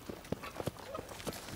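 Hooves clip-clop at an unhurried pace, a few distinct knocks spaced irregularly, fairly close, with faint voices in the background.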